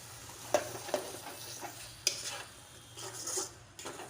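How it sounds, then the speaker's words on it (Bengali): Lote fish curry fries quietly in a pan, a faint low sizzle broken by a few soft scraping stirs and light utensil taps against the pan. "ভালো করে এপিট নাড়িয়ে নেব।"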